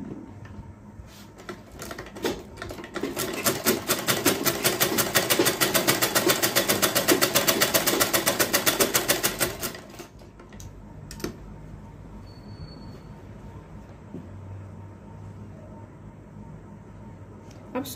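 An electric sewing machine stitching a neckline onto shirt fabric runs in a steady, rapid mechanical whir of needle strokes for several seconds, then stops, leaving a quieter hum and faint handling noises.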